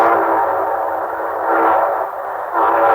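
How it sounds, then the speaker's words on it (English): A train sound effect opens an old radio drama broadcast, a steady rumbling, echoing roar of a passing train with whistle-like tones, loud and alone without talk. "And here comes our star-studded show train."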